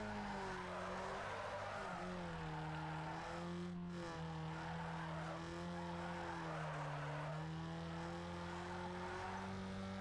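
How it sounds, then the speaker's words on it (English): Car drifting in Need For Speed Underground 2, steady engine drone with wavering pitch and a continuous tire squeal running through the whole stretch, loud and unbroken with no talking. "look at these sweet succulent drifts"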